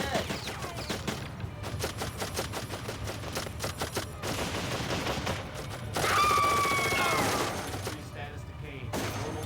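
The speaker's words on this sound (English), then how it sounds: "Careful, Morris. That's an automated turret." Automated turret in the video game Darkest of Days firing rapid, dense bursts of gunfire that rattle on for several seconds, loud and close, with a brief sharp tone and a muffled voice near the end.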